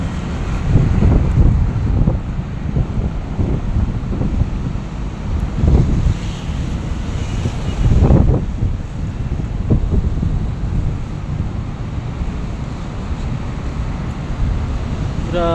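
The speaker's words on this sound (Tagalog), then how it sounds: "Grabe yung bagyong Christine, malakas-lakas din." Strong typhoon wind buffeting the microphone beside the swollen Marikina river, with a steady roar of wind and rushing water throughout and louder gusts surging now and then.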